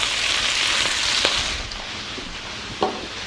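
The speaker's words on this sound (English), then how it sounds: "We're just going to saute these leaves for a little bit till they start to cook down" Collard green leaves sautéing in a pan with cracked pepper and salt, a steady bright sizzle and crackle with a couple of sharp pops and faint stirring knocks, no voices.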